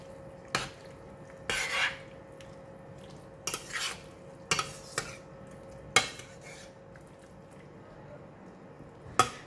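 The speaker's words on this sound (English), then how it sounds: "Just give it a stir." Tofu crab ball soup with spring onion, cilantro and fried shallots being stirred in a pot, several scattered clinks and scrapes of a utensil against the pot, fairly quiet with pauses between.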